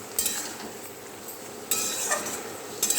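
Vegetable chochchori with raw mustard oil drizzled on, stirred in a pan: a soft sizzle with three short scraping bursts of the spoon against the metal, close up and without speech.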